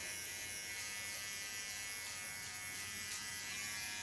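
A small Kiona electric hair clipper buzzes steadily and close up while trimming the neckline during a haircut, an even continuous hum with no talk.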